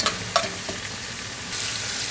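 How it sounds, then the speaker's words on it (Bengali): Onions frying in oil in a pan, a soft steady sizzle with a few sharp stirring scrapes and clicks early on, fairly faint and close, with no talking. "এখানে পেঁয়াজটা ভাজা হোক"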